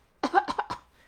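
A short burst of coughing, three or four quick hacks in succession, close and distinct against a quiet background.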